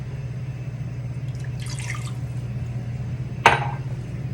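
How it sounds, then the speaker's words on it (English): Water is poured into a pot on a kitchen stove, a brief splashing pour followed by one sharp clink of metal or glass, all set against a steady low hum of background noise. "I'm going to add my water"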